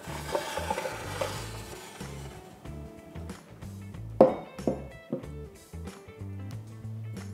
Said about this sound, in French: Donc là, on va bien mélanger.